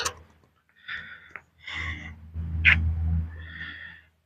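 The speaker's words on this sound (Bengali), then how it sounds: "কি সুন্দর একটা বিড়াল" A white cat in an air-conditioned park gives several short, close meow-like calls separated by brief pauses.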